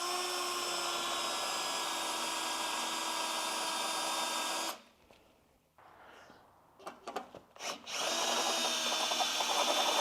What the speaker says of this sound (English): I can drill this thing out.